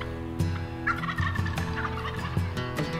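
Wild turkeys, Super Jakes strutting down a field in Kansas, gobble loud and close. Several rattling calls overlap in quick succession, with no talking.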